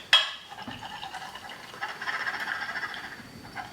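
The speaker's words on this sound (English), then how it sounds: "pour my milk" Milk is poured into a glass for an autumn maple and hazelnut coffee drink: a close, steady liquid pour running for about three seconds, with no talking.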